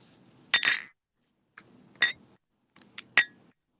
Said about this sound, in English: Ice going in the glass.